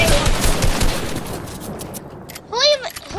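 Rapid, sustained automatic fire from an assault rifle in Fortnite, a dense stream of shots that thins out, followed by a brief chirping game effect near the end, with faint voices underneath.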